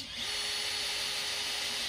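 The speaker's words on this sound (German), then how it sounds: "setze mittig meinen Bohrer an und bohre jetzt dadurch" A 51 mm (2-inch) hole saw with a pilot bit cuts through a garden table to make a parasol opening, giving a loud, steady whining grind that runs unbroken and close for the whole stretch.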